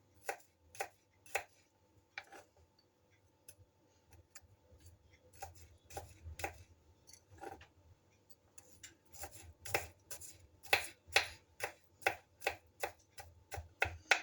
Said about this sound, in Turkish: Sarımsağı da aynı şekil şöyle küçük küçük doğruyorum.